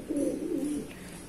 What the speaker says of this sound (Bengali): এটা মাদা পায়রা, মানে কালাঙ্কা পায়রাই